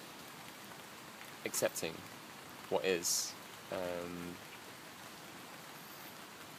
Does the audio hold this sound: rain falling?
yes